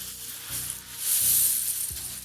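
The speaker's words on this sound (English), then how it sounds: "it literally has cherry pits in it. You can hear it." A microwavable heating pad filled with cherry pits is shaken close by, giving a soft, granular rattling hiss that swells and fades in a few quick waves, with no voices.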